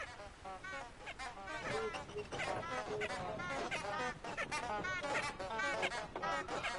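A flock of geese honking in the open-world game Hogwarts Legacy, many overlapping nasal honks in a busy, steady chorus, fairly close and continuous throughout.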